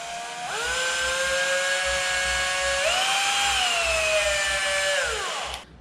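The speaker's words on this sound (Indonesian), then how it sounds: "putaran motornya forward ke depan, terus bisa ditekan ininya, terus kita tekan switchnya" A Bosch GSB 120Li cordless drill motor whines steadily in forward rotation, its pitch stepping up partway through before spinning down at the end; a single close, continuous run with no talk.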